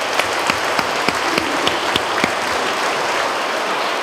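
A round of applause from an audience at a talk on political violence and polarization, steady dense clapping with a few sharper claps, moderately loud and continuous throughout.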